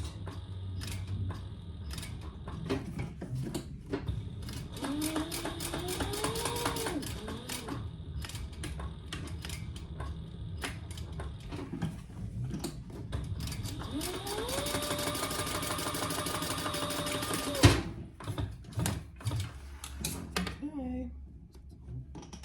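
A sewing machine topstitches a sling bag an eighth of an inch from an earlier seam, whirring in two separate runs with mechanical clicks and handling noises around them, while a voice talks between runs.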